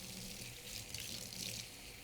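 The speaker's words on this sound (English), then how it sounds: "We're going to rinse our hands, rinse them well." Tap water runs steadily into a sink as hands are rinsed, a constant close splashing rush with no talk over it.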